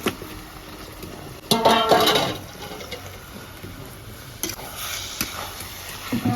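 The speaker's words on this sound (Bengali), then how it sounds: "এবার কেটে ধুয়ে রাখা মাংসটা দিয়ে দেবো।" Washed, cut chicken pieces tumble into a cooking pot with a little water, setting off a brief louder burst of sizzle and clatter over a constant background hiss, followed by scattered utensil knocks.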